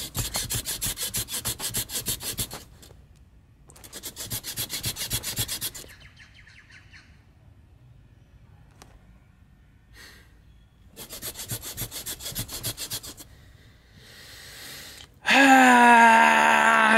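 A squeaky seat in a Toyota JZX100 Chaser creaks and rubs in repeated bursts of scraping squeaks with quiet gaps between them, closing with a louder, sharper squeal.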